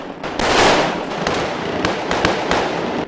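Police officers fire military-style rifles on an outdoor shooting range, a rapid run of loud, sharp cracks overlapping in a dense volley for several seconds, with a few separate shots standing out near the end.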